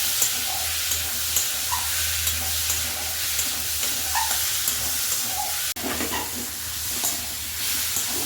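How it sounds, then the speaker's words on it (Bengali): Steady sizzle and frying hiss of a spice paste with dry red chili powder being sautéed in a pan for a Bengali fish gravy with potatoes, continuous with occasional stirring scrapes, close and loud, no talking. "দিয়ে আমি আরেকটু কষিয়ে নেব"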